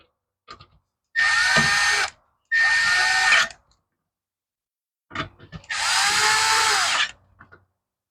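A power drill drives bolts into a plastic part sealed with a gasket, in three separate whirring bursts of about a second each, the last slightly longer, with short pauses between and faint clicks around them.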